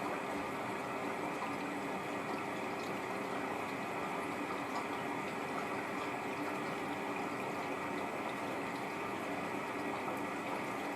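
A Miele W562 washing machine fills with water in a steady, even rush of inflowing water that holds constant and fairly faint throughout, with no talking.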